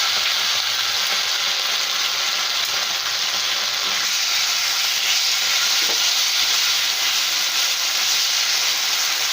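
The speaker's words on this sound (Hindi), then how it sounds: "शिमला मिर्च और प्याज सिक चुके हैं।" Capsicum and onion frying in a pan with tomato sauce just added, giving a steady, close sizzling hiss with faint stirring throughout and no talking.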